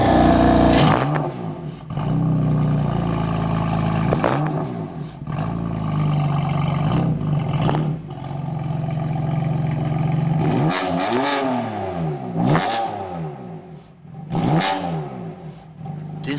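A 2018 BMW M4 Convertible with a 3-liter turbocharged inline six is revved repeatedly near the exhaust, sharp rising blips climbing and falling over a loud, rumbling idle, with several distinct rev bursts spread across the stretch.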